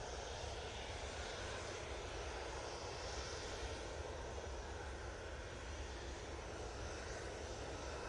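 At Manchester Airport, an airplane edges slowly onto the runway while its engines hold a steady, broad, distant roar, with no change in loudness throughout.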